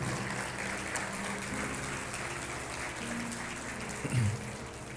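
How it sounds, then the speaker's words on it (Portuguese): Sustained applause from a large church congregation, a broad rushing patter with a low hum underneath and a brief louder bump near the end. "Pode aplaudir ao Senhor."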